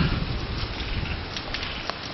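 Heavy rain pours onto a flooded garden in Ginowan, Okinawa, on a warm August night as a storm passes. It comes as a steady, dense hiss close by with no breaks, and no one speaks.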